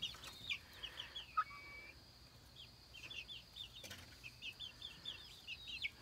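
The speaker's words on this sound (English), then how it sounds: "There's one of our silver lace Wyandottes and our gold lace Wyandotte down there." Silver lace and gold lace Wyandotte chickens cluck softly and intermittently at a distance, with a brief wing flap among the quiet calls.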